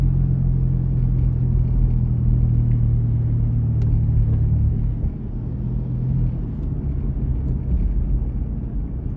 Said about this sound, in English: I'm just pulling into the gas station now